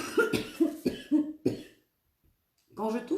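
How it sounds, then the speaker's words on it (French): A woman's repeated coughing, several close harsh bursts in a row, then a pause and another voiced burst, with no other sound around them. "Quand je tousse, en général, c'est des nettoyages."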